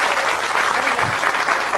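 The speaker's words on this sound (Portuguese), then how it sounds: "uma salva de palmas para ela" A lecture audience at PUC-Rio bursts into a short, dense round of clapping for a volunteer called up on stage, many hands together at an even, close level.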